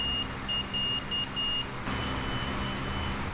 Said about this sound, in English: It's my diabetes alarm.